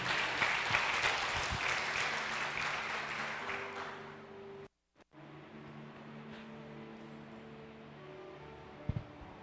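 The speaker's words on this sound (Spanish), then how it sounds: "Dame un fuerte aplauso al Señor." A church congregation claps loudly for about four seconds, the applause then fading into a low hum of room noise after a brief dropout, with a couple of faint knocks near the end.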